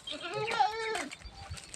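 A single wavering goat bleat, fairly faint and somewhat distant, followed by quiet background noise.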